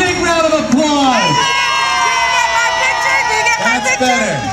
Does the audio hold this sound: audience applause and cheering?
yes